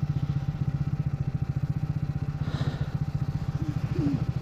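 A motorcycle riding through cloud on a wet mountain road between Darjeeling and Siliguri via Mirik, heard as a steady, close engine throb with rapid even pulses and a faint rushing of wind.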